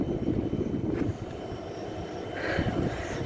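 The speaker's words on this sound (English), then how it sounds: "Approaching is our final train of York." A Class 68 locomotive-hauled train approaches a platform at York station, a steady low rumble that swells slightly as it draws nearer, fairly quiet and with no talk.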